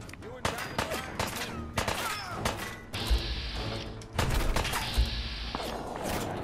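Rapid bursts of gunfire and heavy thuds in a Fallout 4 survival-mode firefight, loud close shots in clustered volleys with brief pauses, mixed with game effects and a voice talking.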